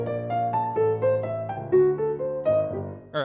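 A bass plays a run of about a dozen distinct, close, clear plucked notes moving through chords, each chord starting on its root, with no voices.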